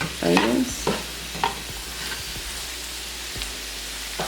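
Peppers, sausage and onions tossed into potatoes frying in a pan and stirred, with a few scraping stirs and clatters over a steady soft sizzle that continues alone.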